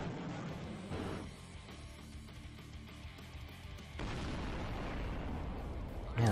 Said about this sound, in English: all their missiles just hitting